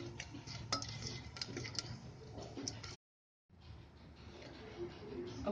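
Whole spices (green cardamom, cloves and black peppercorns) are stirred in a pressure cooker for veg biryani, giving a steady close scraping and rattling that breaks off for a brief silent moment, then resumes.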